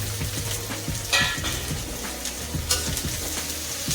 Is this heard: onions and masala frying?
yes